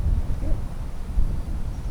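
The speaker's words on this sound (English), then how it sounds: "It's windy up here." Low, rumbling wind buffets the microphone in uneven gusts high up on a homestead, with no other clear sounds.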